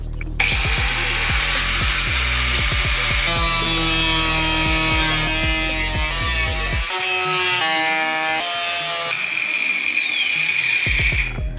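A power tool cuts into the wheel arch of a wagon, a harsh, loud, continuous grinding whine with shifting pitch and brief changes in load, heard up close and alone throughout.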